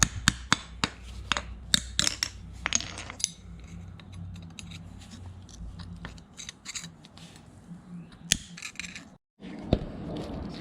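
A hacksaw cuts through a metal brake bracket on a Datsun 521 mini truck rear disc conversion, giving close, rough rasping strokes with sharp metallic clicks and clatter throughout, ending in a brief pause and a few more strokes.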